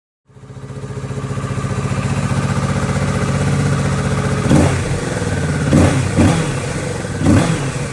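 A 2022 Kawasaki Ninja 650 Tourer motorcycle engine starts and settles into a steady, close idle, then is blipped in three or four short, sharp revs toward the end.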